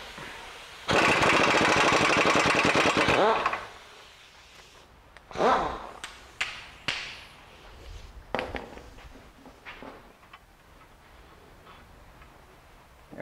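An impact wrench loosens a 17 millimeter lower control arm bolt on a 2006 Honda Element: a loud sustained rattling hammer burst of about three seconds, followed by several shorter spaced clanks and ratcheting taps.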